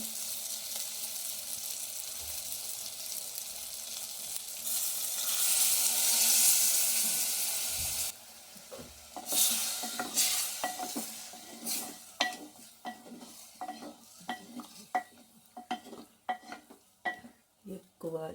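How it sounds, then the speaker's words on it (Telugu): Brinjal curry simmering with added water in a clay pot gives a soft bubbling sizzle, followed by a run of scraping stirs and clinks of a spoon against the pot, close and fairly quiet. "ఇందులో కొద్దిగా వాటర్ వేసుకొని ఉడికించుకోవాలి"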